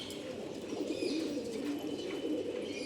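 Sundori-breed pigeon, among other loft pigeons, cooing softly in low rolling calls against a faint background with light chirps.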